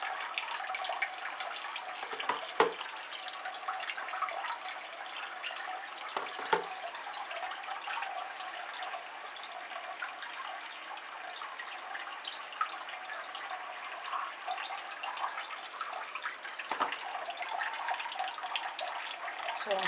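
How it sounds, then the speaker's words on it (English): Running water pours steadily over orchids (Neofinetia and Cattleya) in terracotta pots, a continuous splashing hiss with occasional louder drips and knocks, close by and with no talk. "So I'll give this a good water."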